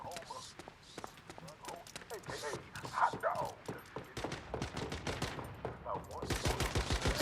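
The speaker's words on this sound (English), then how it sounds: "Sir, you're shooting at my house." Gunfire aimed at a house in the survival game Once Human cracks out as quick repeated shots and bursts, mixed in among people talking throughout.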